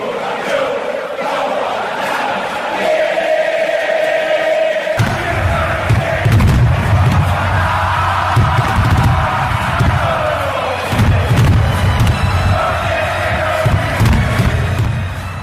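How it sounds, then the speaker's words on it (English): Argentine football fans pack the terraces, roaring and chanting loudly with pounding drums thudding beneath the crowd, a dense, continuous wall of noise that swells throughout. "they create this, party, mosh pit atmosphere almost with the drums, the flares, the fireworks"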